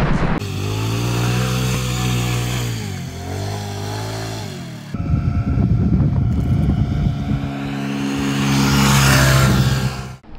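Scooter ride on Spetses island, Greece: a loud, close engine hums with steady harmonic whine that dips and rises as it slows and accelerates, then rough rumbling wind and road noise before revving up again.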